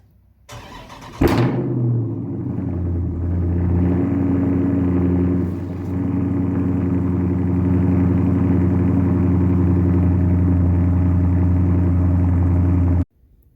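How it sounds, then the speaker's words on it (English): A car engine cold-starts with a sharp crank burst, then settles into a steady, loud, even idle that runs close by for about eleven seconds before cutting off abruptly. "let's get the cold start in."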